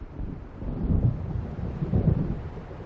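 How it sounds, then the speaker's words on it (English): Deep, rolling thunder of an approaching storm in the video game Alan Wake Remastered, rumbling continuously with two swelling peaks, mixed with steady rain and wind, heard alone without talk. "It seems there's a storm coming."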